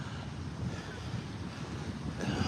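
Wind and ocean surf at a cold coast make a steady, loud rushing roar with no clear pauses and no voices.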